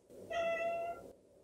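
A pet cat gives a single clear, drawn-out meow, close by and fairly quiet.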